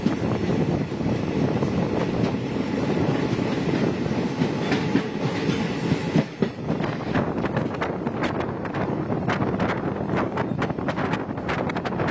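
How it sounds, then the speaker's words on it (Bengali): The Lachit Express passenger train rolling steadily along the rails through Sripani station at night, continuous rumble with rhythmic clattering growing more distinct toward the end, heard from on board. "ট্রেন এখন শ্রীপানি রেলওয়ে স্টেশন ক্রস করছে"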